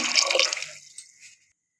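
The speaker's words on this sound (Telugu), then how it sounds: "ఇప్పుడు ఇందులో నేను వాటర్ పోస్తున్నానండి" A short burst of water pouring and splashing into a container, trailing off quickly into silence.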